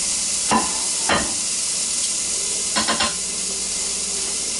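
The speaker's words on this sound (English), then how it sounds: "You can hear the sizzle." Top sirloin steak sizzles steadily on a hot Ninja Foodi grill, a loud continuous frying hiss with a few brief clatters of handling and no voices.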